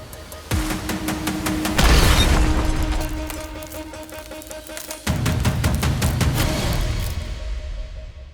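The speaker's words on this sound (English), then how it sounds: "Spear Gold Dot, 124 grain, through my favorite firearm, the Browning High Power" Pistol shots from a Browning High Power firing Speer Gold Dot 124 grain rounds into automobile glass ring out as a rapid string of sharp, loud cracks with reverberating tails, about a dozen fast reports in two bursts.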